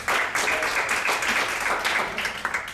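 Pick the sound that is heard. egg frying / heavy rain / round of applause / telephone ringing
round of applause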